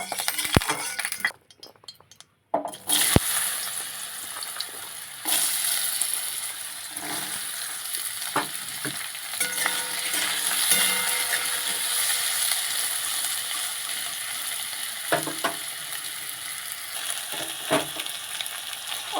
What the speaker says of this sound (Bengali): কপি ছক্কা করার জন্য আমি প্রথমে আলুটা হালকা করে ভেজে নেব।